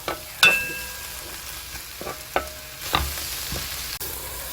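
Squid stir-fries in seasoning in a pan: a soft background sizzle broken by sharp utensil scrapes and clacks at irregular intervals, close and fairly loud.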